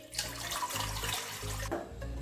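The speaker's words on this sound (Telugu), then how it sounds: "ఇన్ని వాటర్ పోసుకోవాలండి." Water poured into an idli steamer before steaming, a short rushing splash and gurgle close by that ends in a brief trickle.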